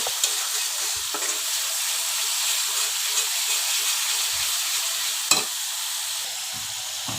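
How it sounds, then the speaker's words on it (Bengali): Spice masala for rohu fish bhuna fries in a pan, giving a loud, steady close sizzle with occasional clinks and scrapes of stirring. "আমার এখানে মশলাটাকে ভালো করে আমি বেজে নিচ্ছি"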